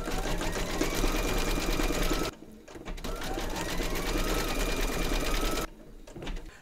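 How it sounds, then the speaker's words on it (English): An embroidery machine stitches eyelets on fabric bunting held in a hoop, a fast rhythmic mechanical whirr in two long runs separated by short pauses, fairly quiet and without speech. "you're now going to stitch round number 11"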